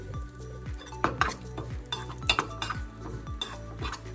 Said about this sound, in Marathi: ते बदामाचे काप आहेत, ते थोडेसे आपण तुपावर परतून घेऊन घालूया.